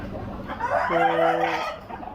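Tiger breed chickens: a rooster gives a single clear crow near the middle, rising and holding before trailing off, with soft clucking around it and no speech.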